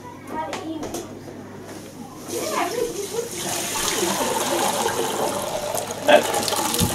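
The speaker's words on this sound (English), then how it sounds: "What we're going to do is pour that into here, and then recycle it a couple of times." Hot homebrew wort for an Old Peculier-style ale is poured into a vessel for recirculation through the mash, a steady rushing splash that builds and continues for several seconds, with brief talk at the start.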